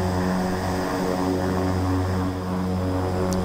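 A propeller aircraft engine in a flight simulator game gives a steady, loud, droning hum with a throbbing pulse, close up and continuous, with no speech.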